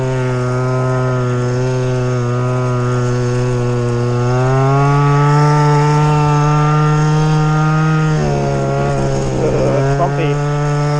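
A small Go-Ped motor scooter engine drones loudly and continuously close by as it is ridden, its buzzing pitch climbing and easing with the throttle, and a voice can be heard briefly near the end.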